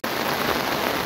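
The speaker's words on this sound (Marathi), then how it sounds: "भरपूर पाऊस पडतोय, जोरात पाऊस पडतोय" Heavy rain pouring down steadily in a garden during a downpour, a dense, continuous hiss of drops on surfaces, close and unbroken with no voices.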